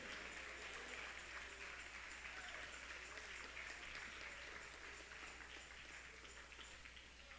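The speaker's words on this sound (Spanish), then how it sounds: "dele un aplauso al Dios" A church congregation applauds together in a steady, dense wash of clapping that holds at an even level throughout, fairly faint and with no talking.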